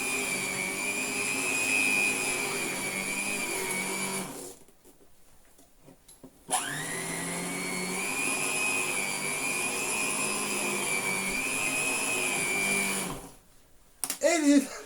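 A 1970s Emer Clean Machine electric carpet sweeper runs with a loud, steady motor whine for a few seconds. It cuts out briefly, then starts up again and hums evenly before switching off, followed by a few knocks.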